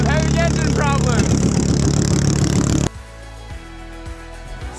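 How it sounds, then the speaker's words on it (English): Racing boat engine struggling with mechanical problems, a loud sustained drone with harmonic overtones that cuts out abruptly near the end, leaving a quieter uneven low rumble; a voice talks over the first part. "I'm having engine problems."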